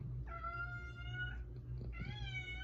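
A nearby cat gives two drawn-out meows, the first about a second long and the second shorter, over a low steady background hum, fairly quiet, with no talking.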